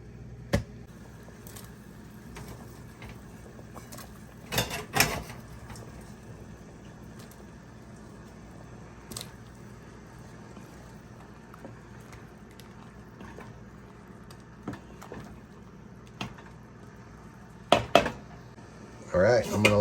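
Corn going into a pot for a stove top shrimp boil: scattered clinks and knocks of cobs against the metal pot over a low kitchen hum, with a cluster of louder clatters near the end and a person talking.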